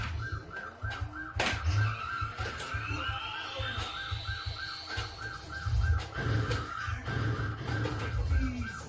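A car spins out in the Chase HQ arcade game. Engine roar and a rising, whining skid sweep run under steady arcade siren blips and music, loud and continuous throughout.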